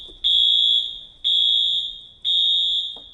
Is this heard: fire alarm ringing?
yes